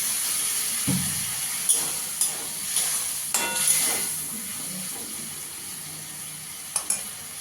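Kashmiri chilli spice paste sizzles steadily in a pan after a splash of water, with a few sharp stirring knocks and scrapes across the clip.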